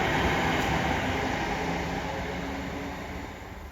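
Class 323 electric train 323225 pulling out of Heald Green station toward Manchester Piccadilly, making a loud broad rumble and whoosh that eases off gradually, with no voices.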